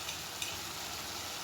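Sliced ridge gourd frying in a pan gives off a steady, even sizzle that holds for the whole moment without any voices.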